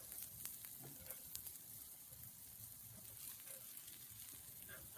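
Bacon tossed into a pan for bushman-style curried sausages gives a faint, steady crackling sizzle with scattered small pops and no voices.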